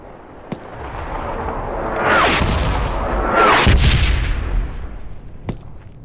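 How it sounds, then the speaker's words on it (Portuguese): A grenade explodes amid urban combat in the World War II shooter Hell Let Loose. It comes as a broad, rumbling blast-and-gunfire roar that swells in the middle, with sharp isolated cracks near the start and end and no talking. "Vou lançar ali e vou tacar uma granada."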